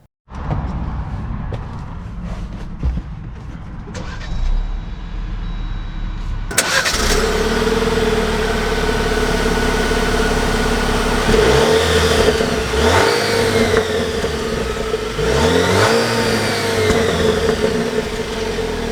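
A lifted Jeep Wrangler Rubicon engine starts with a loud catch, settles into a steady idle, then revs up and pulls away with rising and falling acceleration as it drives off, heard close and loud throughout.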